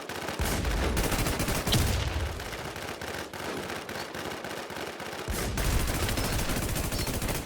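Rapid gunfire crackles nonstop in a shooting video game, dense bursts of automatic shots layered with occasional louder single cracks, loud and close throughout.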